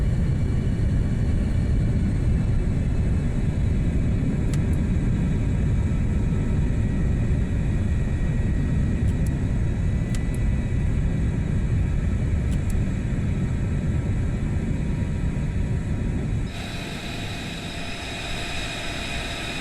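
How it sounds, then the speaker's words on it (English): An F-35 in a flight sim with gear lowered and transitioning into STOVL mode: a loud, steady jet roar and rumble held throughout, dipping slightly and shifting in tone near the end. "Gear coming down, and into STOVL mode."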